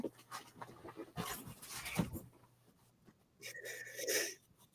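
A dog panting close by in a quiet room, quick breathy bursts in irregular runs with a short wheezy whimper near the end.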